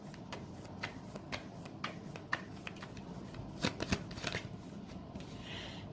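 A deck of tarot cards is shuffled close by in a quiet room, a run of soft riffling bursts and crisp flutters with brief pauses between, faint and without talk.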